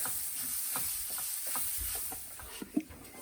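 Dal being stirred into a frying spice mix in a pan, a soft steady sizzle with rhythmic scraping strokes of the spoon and one sharper clack near the end, close and quiet.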